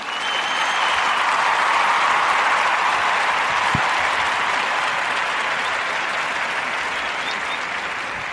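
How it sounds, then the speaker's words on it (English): Sustained audience applause at a live podcast recording, a dense, even wash of many hands clapping that holds steady for about eight seconds and tapers only slightly toward the end. "Give a warm narrative podcast round of applause for Mr. Chadwick and Dipways."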